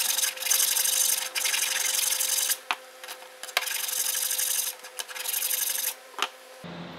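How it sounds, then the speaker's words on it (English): A flat file rasps steadily across the edge of a thin, flexible steel knife blank to take down a burr, with long continuous strokes broken by brief pauses and sharp taps, close and loud with no talking. "you can just go over and really use the flat side of the file to just take that burr down"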